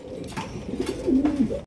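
Male pigeon cooing up close, a series of low throaty rolling coos that swell and fade over under two seconds, with no voices.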